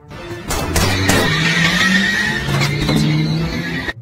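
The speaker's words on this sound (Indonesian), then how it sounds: "Mia dengan mobil limusinnya berhasil membawa kabur mereka semua sehingga Qin dan istrinya selamat" A limousine in an action film scene speeds off with loud tire squeals and skidding over a roaring engine, one sustained close burst of screeching that fades at the end.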